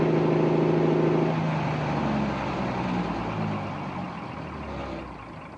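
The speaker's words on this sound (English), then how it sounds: "you will hear how the motor will finally stutter and stop" A biogas-powered farm motor runs with a steady droning hum, then falters and winds down as its gas supply is cut, fading toward stillness over several seconds.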